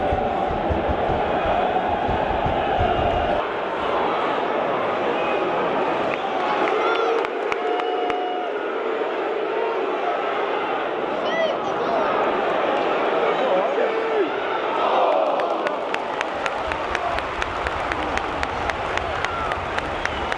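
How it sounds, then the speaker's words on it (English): A large football stadium crowd at Southampton vs Crystal Palace roars and cheers continuously, a dense wash of voices with scattered claps, and a commentator talks over it. "Listen to that crowd. They're happy to see something."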